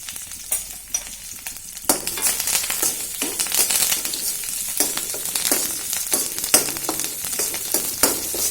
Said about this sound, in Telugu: వెల్లుల్లి పచ్చిమిర్చి ఎండుమిర్చి కరివేపాకు వేసినాం కదా ఇవైతే కొంచెం వేగాలన్నమాట